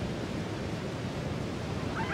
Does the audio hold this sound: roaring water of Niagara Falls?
yes